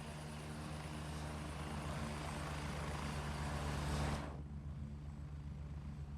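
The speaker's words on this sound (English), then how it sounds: "Go ahead and quieten that chopper up." A helicopter in a jungle video game drones steadily with a low rotor rumble and broad engine wash, then the sound abruptly thins and drops away near the end as if muffled.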